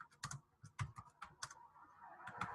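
Keys clack in uneven bursts on a computer keyboard as a short comment is typed on Instagram, close and moderately loud, with no talking.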